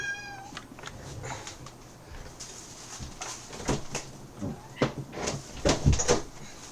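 A house cat meows a few times indoors, faint at first, against a bed of game sounds and clicks with occasional thumps like a door or cupboard.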